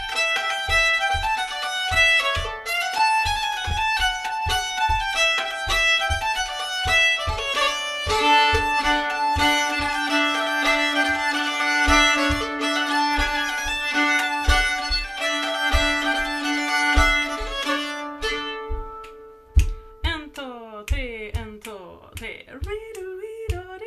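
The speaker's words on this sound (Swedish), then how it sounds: "Sen kan det finnas polskor som låter så här." Swedish folk polska tune played on bowed strings, a lively melody over an uneven, lilting triple-time pulse, loud and close, ending with a few sliding notes.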